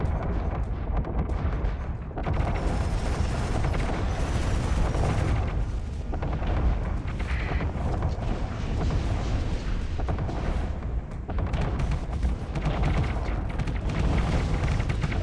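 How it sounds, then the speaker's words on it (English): Cannon fire in the Starsector space combat game rumbles as continuous heavy booms and explosions, loud and layered throughout, with brief lulls between barrages and no talk. "let's pull to a stop and let the cannons do their work"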